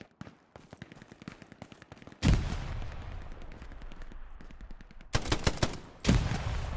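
Gunfire in the World War II shooter Hell Let Loose cracks out in rapid automatic bursts, with loud close shots and booming heavier reports layered over steady distant firing.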